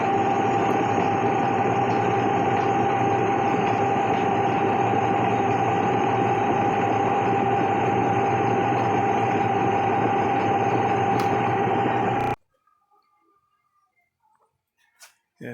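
A 1967 Triumph TR4A engine runs with a steady, loud mechanical drone as the gearbox shifts into overdrive, then the sound stops abruptly, leaving near silence with a few faint clicks.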